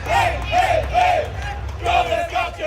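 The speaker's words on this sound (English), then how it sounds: "A majority Bosnia crowd in the World Cup." Bosnia supporters at a sold-out Lumen Field World Cup match against Qatar chanting in unison, loud rhythmic bursts of massed voices repeating in a steady cadence, slightly distant and reverberant like a stadium crowd.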